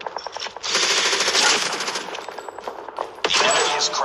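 Sustained automatic gunfire from a hostile sentry gun in a Call of Duty match, loud rapid bursts running almost without break, with a brief lull near the end before firing resumes.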